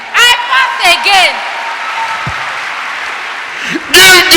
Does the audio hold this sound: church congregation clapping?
yes